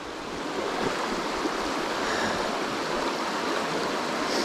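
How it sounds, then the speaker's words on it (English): Rolling water of a stream at a nymph-fishing spot, a steady broadband rush and gurgle that stays even and close, with no talk. "Some rolling water up there."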